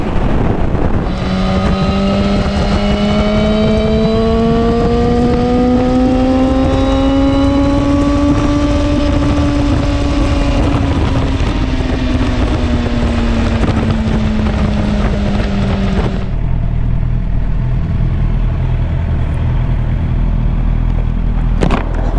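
A motorcycle rides along a dual carriageway on a windy day, its engine droning loud and steady as revs rise and fall, with heavy wind buffeting the microphone before the engine note eases off near the end.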